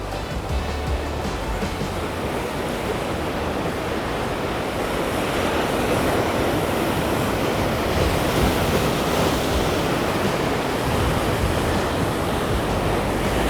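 Ocean surf rolls onto a New Zealand surfcasting beach in a steady, loud wash of breaking waves, with wind buffeting the microphone and no talk.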